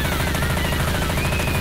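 Gunfire in Left 4 Dead 2 on the Dark Carnival campaign, aimed at the Witch: dense, rapid automatic shots rattle on without a break, loud and close, with no voices.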